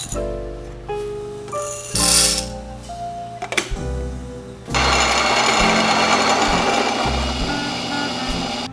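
On a Gemilai espresso setup, 18.5 grams of medium roast coffee beans are dosed with clinks and rattles, then an electric grinder starts and whirs steadily into a dosing cup for several seconds, close and fairly loud.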